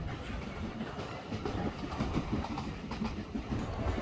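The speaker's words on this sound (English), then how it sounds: "But soon the train started to roll loudly through the beautiful landscape." Tren de Sóller train rolling loudly along the rails through Mallorca countryside, a steady, dense rumble and clatter of wheels heard from inside the carriage, continuous throughout with no talk.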